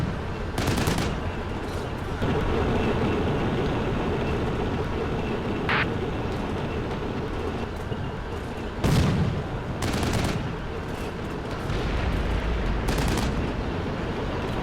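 Tank gunfire rings out in a military video game: scattered sharp bursts and single cracks over a steady mechanical rumble, spaced several seconds apart at moderate loudness.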